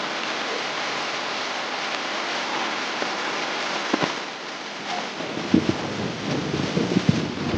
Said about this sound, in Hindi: लगभग हर दिन तेज बारिश हो रही है।